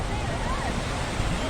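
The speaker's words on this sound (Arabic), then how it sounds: "ده جانب من شواطئ اسكندرية في ميامي بالليل، لسه الناس في المية برضه" Sea waves wash in at night along Miami beach in Alexandria, a steady broadband surf roar filling the short moment, with faint voices mixed into the wash.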